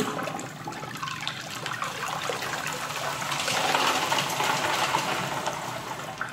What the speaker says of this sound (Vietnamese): Giờ mình sẽ nhấn xả nhẹ.